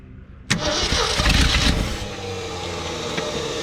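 A 1969 or 1971 Ford F100 pickup, abandoned for years, cranks briefly, then catches and roars loudly to life before settling into a rough, steady idle, heard up close.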